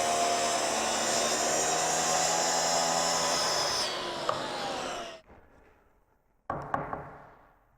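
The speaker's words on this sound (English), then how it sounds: "I'm going to use 2 wood screws to attach it." A power driver sets two wood screws to fasten an edge block onto a parallel guide for a Festool track saw, with a long steady whir, a sudden stop, then a short second burst with knocks close by.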